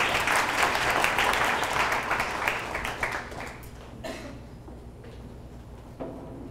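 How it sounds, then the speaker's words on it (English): A meetup audience applauds in a room, with dense clapping loud at first and then thinning out and fading over several seconds, with no talking. "Let's get a round of applause."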